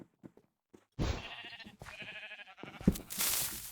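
Sheep bleating in the Minecraft video game, a few drawn-out wavering bleats that run together over about a second and a half, fairly loud and close, followed by a brief noisy burst.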